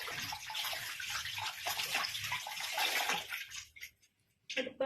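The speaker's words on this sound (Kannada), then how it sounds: "ಇವಾಗ ಬಜ್ಜಿ ಮೆಣಸಿನಕಾಯಿ ವಾಶ್ ಮಾಡ್ತೀನಿ. ಮೂರು ತಗೋತೀನಿ ಗೈಸ್, ವಾಶ್ ಮಾಡಿ." Bajji chili peppers are washed under a running tap, with a steady rush of water and splashing that briefly stops before resuming.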